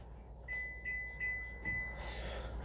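A timer beeps several times in quick succession, short thin electronic tones that are faint and sit over a low room hum, with no talking.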